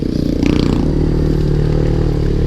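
A motorcycle with a CVT set-up revs loudly up close, its engine drone rising and holding steady with a mechanical clatter on top.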